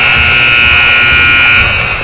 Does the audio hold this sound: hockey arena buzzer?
yes